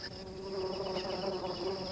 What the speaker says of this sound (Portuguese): Em segundos, um grupo de vorazes moscas aparece, absorvendo a pegajosa seiva até que se cicatrize.